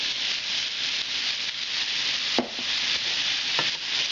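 Potatoes and schnitzel frying in oil in a pan, a steady loud sizzle running throughout, with a couple of brief stirring clinks and scrapes near the middle and toward the end.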